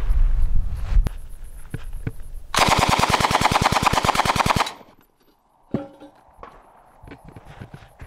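An Uzi submachine gun fires a rapid full-auto burst of about two seconds at a body armor plate on a rubber dummy, loud and close, with a few single shots and outdoor range noise before and after.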